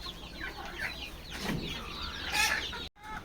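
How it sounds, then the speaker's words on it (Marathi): Guinea fowl and native village chickens on a poultry farm cluck in scattered, faint bursts that sound a little distant, with no talk. "ह्या बघा आपल्या मस्त अशा कोंबड्या ओरिजिनल गावठी पाहू शकता तुम्ही"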